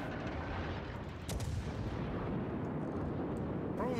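Distant, rumbling gunfire and shell impacts in a World of Warships naval battle, with secondary guns hitting a ship; a steady muffled roar with one sharper crack partway through.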